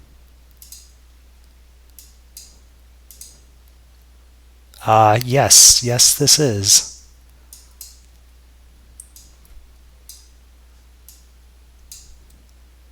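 A homemade Visual Basic 3.0 alarm clock program ticks faintly and steadily, light regular clicks running throughout, interrupted midway by a short burst of speech.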